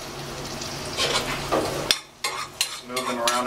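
Cherries cooking in foaming butter in a pan give a soft, steady sizzle, broken by a few brief scrapes and clinks of stirring near the end.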